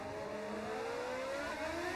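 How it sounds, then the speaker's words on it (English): Formula 1 racing car engine in a video game on the Monza circuit, a steady loud high-pitched whine that climbs gradually in pitch as it accelerates, continuous with no talking. "my engine sounds like it's going to explode down towards turn 1"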